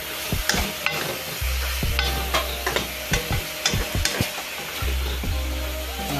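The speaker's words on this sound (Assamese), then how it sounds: "এতিয়া মাংসখিনি অলপ টাইম ভাজি ল'ম।" Chicken pieces fry in hot oil with onions for a homemade Assamese chicken curry, a loud steady sizzle broken by repeated clattering strokes of a spoon stirring against the pan, close up with no talking.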